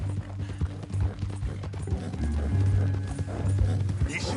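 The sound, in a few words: horse hooves, from video game Red Dead Redemption 2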